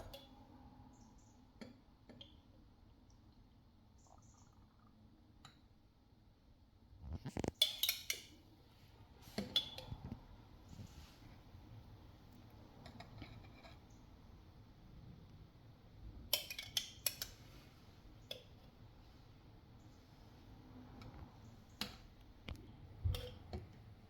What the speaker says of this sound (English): So we're going to add the rest of our chia seeds on top.